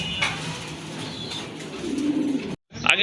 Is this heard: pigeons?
yes